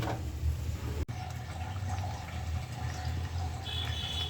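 Liquid poured into frying spices for an egg curry, a steady watery rush and splash that runs the whole time at moderate loudness, with a brief break early on.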